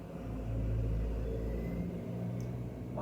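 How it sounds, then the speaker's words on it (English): Trucks rumble past outside a window at night, a steady low engine drone that holds throughout with no talking. "Why is there so many trucks outside my goddamn window?"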